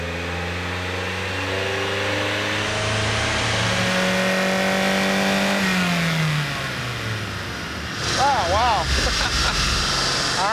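A Mazda Miata spec-class race car on a chassis dyno revs hard, its engine pitch climbing steadily through the gears before dropping off, then a brief high whine and rattle as it winds down; loud and close.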